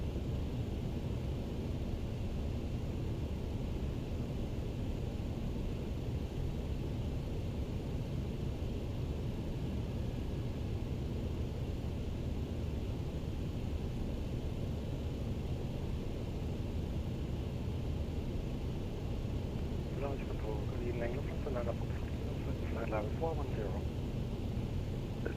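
A TFDi MD-11ER jet accelerates for takeoff in a flight simulator, with a steady broad engine roar and rumble throughout, close and loud, plus brief chirping tones near the end.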